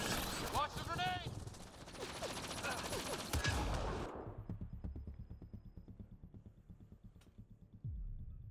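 Heavy weapons gunfire in the video game Mass Effect Andromeda: a dense, chaotic volley mixed with voices at first, then a steady run of rapid, evenly spaced automatic shots that carries on loudly to the end.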